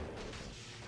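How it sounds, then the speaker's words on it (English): Corpse fire spell goes off in the video game Diablo 2, a brief, muffled, booming rumble heard faintly for under a second. "Oh, it's corpse fire."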